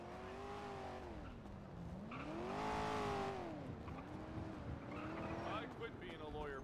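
A car engine in a role-play driving game revs up and down in repeated rising and falling sweeps, swelling loudest midway, with tire noise and talk underneath.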